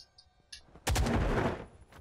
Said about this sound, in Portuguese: Ah, tiro da besta fera de sniper